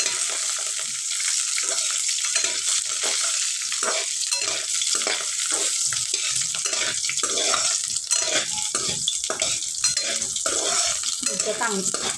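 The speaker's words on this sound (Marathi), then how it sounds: "तेलात जिरे मोहरीची फोडणी चांगली तडतडत आहे" Cumin and mustard seeds crackle and sizzle loudly in hot oil, a continuous spitting hiss with rhythmic scraping from stirring throughout.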